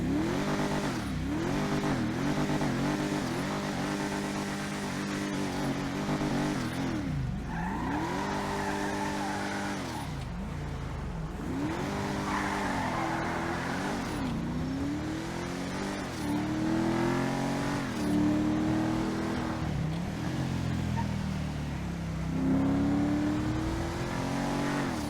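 The Enus Windsor Drop's engine in GTA Online revs and drops repeatedly, climbing through gears with rising and falling whine, with occasional tire squeal, loud and close with no talking.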